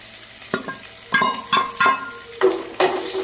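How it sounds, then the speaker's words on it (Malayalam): Green chilies and chopped onion sautéing in a hot pan, with bursts of sizzling as a spoon stirs and scrapes the pieces several times, close and clear with no talking. "അതൊക്കെ ഒന്ന് വഴറ്റിയെടുക്കാം"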